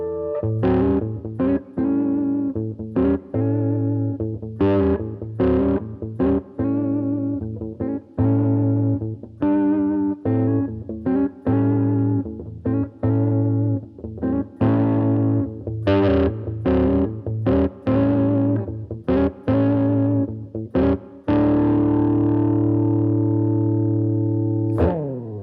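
Gibson electric guitar played through both bridge and neck pickups with the tone controls rolled fully down, giving warm, dark, sustained distorted chords and single notes in a rhythmic riff, loud and alone.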